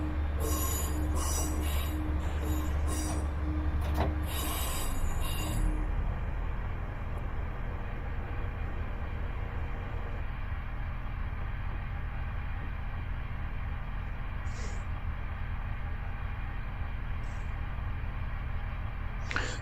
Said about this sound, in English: maximum speed for this train is 100 miles per hour